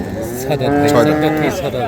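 A dairy cow at a village cattle market lows in one long, loud, drawn-out moo close by, with faint crowd murmur behind it.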